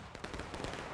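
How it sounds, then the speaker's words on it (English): Musket fire in the Civil War-era game War of Rights, a brief burst of sharp shots in a distant volley during a battle on a wheat-field map, faint and rattling within a single second. "Oh, he stops to get a shot in."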